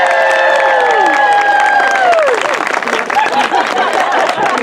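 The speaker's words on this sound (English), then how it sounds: "And the great Caesar goes away to get cremated to thunderous applause." Loud audience applause and cheering at an outdoor Renaissance faire Shakespeare performance, with sung or shouted held voices at the start giving way to dense clapping and whoops.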